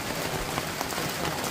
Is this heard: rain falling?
yes